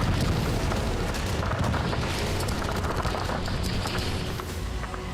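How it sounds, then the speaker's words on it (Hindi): Dense, rumbling bursts of gunfire and booms from Russian troops firing at a small two-seater aircraft in the Russia-Ukraine war, loud and continuous with sharp overlapping cracks and no talking. "हवा में उड़ रहा है एक छोटा एयरक्राफ्ट और रूसी फौज इसे गिराने के लिए फायरिंग कर रही है।"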